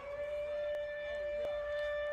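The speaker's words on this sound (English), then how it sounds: "Got that siren going." A siren wails in a sustained steady tone during a high school football game between Rockmart and Sonoraville, sounding at a distance over faint crowd noise in the stadium.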